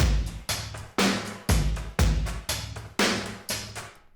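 A punchy, fat trip hop drum beat loops steadily, three layered loops of heavy kicks and snares with crisp hats in a slow, even groove, loud and with no voices.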